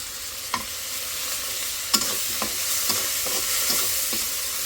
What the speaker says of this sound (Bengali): এটা একটু কষাতে থাকি